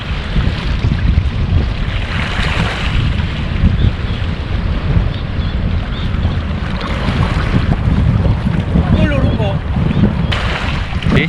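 Steady wind buffets the microphone on a seashore while fishing, a continuous low roar with gusty surges, alongside faint water movement and occasional brief voices.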